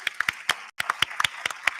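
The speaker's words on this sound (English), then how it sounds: "So can we just get an applause for that at least?" A small audience at a live meet-and-greet claps, a few distinct close hand claps in an irregular patter with a brief gap partway through, no voices heard.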